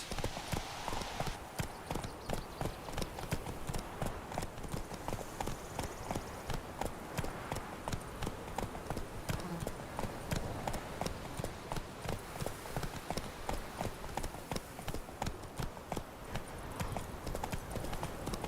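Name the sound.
horse hooves clip-clopping in a video game, The Witcher 3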